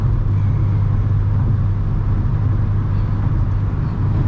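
A car driving on an expressway in the rain gives a loud, steady rumble of engine and road noise with a wet tire hiss. It holds constant throughout with no voices.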